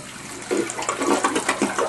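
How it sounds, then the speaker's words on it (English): A household toilet flushes up close, a short rushing swirl of water with gurgling pulses as the bowl drains. "Don't ever flush the toilet unless you have a full tank of water."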